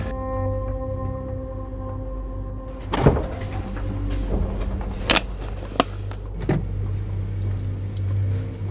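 Riding in a car on the way to a video shoot, a steady engine and road rumble with an idling hum at first, then a few sharp thumps and clicks from the cabin as the car moves off.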